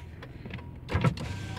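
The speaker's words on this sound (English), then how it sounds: "Automatic driver's side window" The automatic driver's side power window of a 2001 Buick Century hums briefly as its electric motor runs, rising to a louder whir near the end of travel, heard close up.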